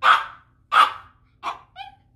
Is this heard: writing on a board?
no